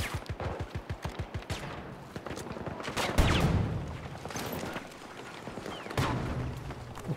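Gunfire in the shooter game Battlefield 2042, with a rapid PBX-45 burst of evenly spaced shots opening the stretch, followed by heavier blasts and scattered distant shots under a low battle rumble.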